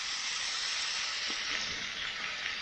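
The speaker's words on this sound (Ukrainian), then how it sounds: "Зараз так обсмажу до золотавої скоринки з кожного боку." Potatoes and small chunks of pork belly fry on a harrow-disc pan, giving a steady, close, dense sizzle with soft crackles throughout and no talk.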